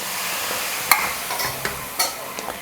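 Gram flour batter for Mysore pak is stirred in hot oil and ghee, with a handful of sharp spoon scrapes and clicks over a soft, steady sizzle.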